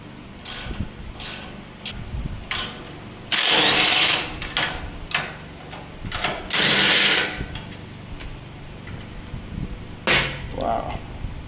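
A power tool spins nuts off the bumper bolts of a Toyota Tacoma, with two loud sustained bursts and several short quick zips in between, close by amid faint background noise.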